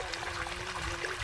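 Irrigation water trickling and flowing through a farm field, a continuous close babbling stream with no voices.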